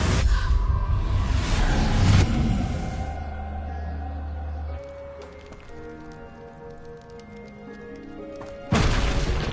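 A Confringo blasting spell explodes in a Harry Potter video game, with a loud booming burst up front, a rumbling, debris-filled tail, then another sharp blast near the end, with no talking.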